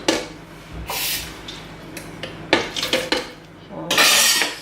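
Homemade baby food being stirred in a pot, with bursts of metal spoon scraping and clinking against the pot, close and fairly loud, separated by quieter pauses.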